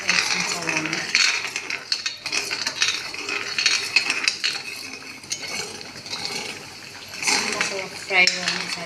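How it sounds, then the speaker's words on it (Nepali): Ginger, garlic and green chili paste frying in a pan for a chicken dish, with sizzling and a spoon scraping and clinking against the metal, irregular stirring up close. "यो चाहिँ अदुवा लसुन, यो चाहिँ खोर्सानीको पेस्ट हो। यसलाई फ्राई गर्ने।"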